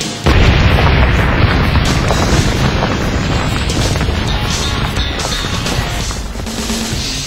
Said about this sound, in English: 5 seconds till explosion.